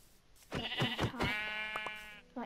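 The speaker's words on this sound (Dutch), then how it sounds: "Schaapjes." Sheep bleating in Minecraft, a run of wavering, harmonic baa calls close up, several short bursts followed by one long drawn-out bleat, with no one talking over it.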